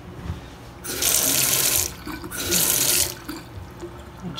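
A hot and cold faucet on a sink held down with white silicone in a renovated attic is turned on, and water runs into the basin in two loud bursts of roughly a second each, with a short pause between them.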